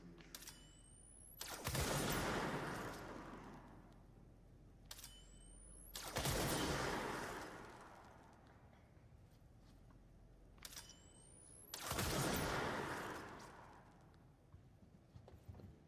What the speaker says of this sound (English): There's shooting already, we can tell. And big boom booms.